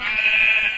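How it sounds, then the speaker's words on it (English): A single short, close bleat from a brown sheep in Minecraft, bright and nasal, sounding alone. "Is there a sheep back here? Brown sheep."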